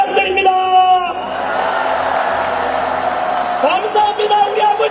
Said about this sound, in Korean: 큰 함성과 함께 박수를 부탁드립니다